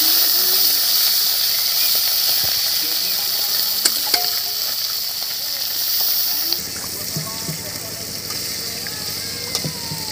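Fish sizzling as it fries in oil on a small boat on a calm river at dusk, a steady close hiss that continues throughout with a slight drop in level partway through.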